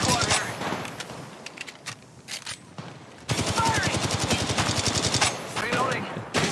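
Automatic gunfire in PUBG comes in rapid bursts, first scattered and then a dense, sustained volley of shots, with a voice speaking briefly among the shots.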